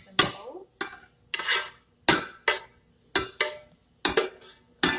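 A spoon knocks and scrapes against a bowl while two prepared ingredients are mixed together in a home kitchen, a series of sharp clinks roughly every half second, close and clear with no talking.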